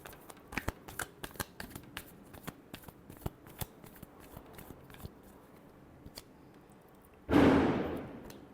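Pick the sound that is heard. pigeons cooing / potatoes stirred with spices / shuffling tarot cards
shuffling tarot cards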